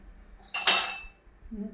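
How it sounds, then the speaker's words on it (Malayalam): A single metallic clank as a frying pan is set down on a stovetop, with a brief ringing tail, followed by quiet room sound. "നമുക്ക് ചട്ടി അടുപ്പത്ത് വെച്ച് സ്റ്റവ് കത്തിക്കാം"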